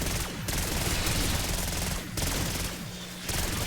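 Bursts of rapid automatic PPSH fire in Black Ops 6 Zombies, loud, dense volleys broken by short pauses between bursts.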